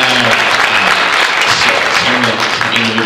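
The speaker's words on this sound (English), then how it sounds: "Let's give him a round of applause." An audience claps steadily and loudly in a hall, a dense, even wash of applause through the whole moment, with faint voices mixed underneath.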